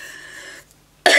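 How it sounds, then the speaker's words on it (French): A woman who is ill gives one sharp, loud cough right at the end, after a moment of quiet following faint background noise. "Désolée de tousser, mais quand on est malade"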